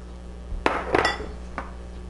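A spatula clinks and scrapes against a large bowl while seafood macaroni is mixed with cheese sauce, a few brief close knocks spaced over two seconds.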